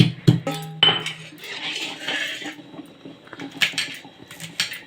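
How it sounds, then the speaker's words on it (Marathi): Garlic crushed by hand in a home kitchen while making fenugreek leaf bhaji: a few sharp knocks and clinks up close at the start, followed by softer tapping and scraping, with no one talking. "लसूण चेचते"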